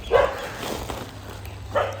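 Dogs at an animal shelter bark in two short, sharp bursts, one at the start and one near the end, moderately close, with a quieter stretch between them.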